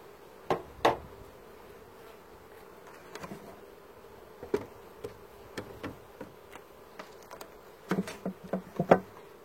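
Honey bees buzz faintly around freshly harvested honey at an open hive during a July honey harvest, with a scatter of sharp taps and clicks, a dense cluster near the end.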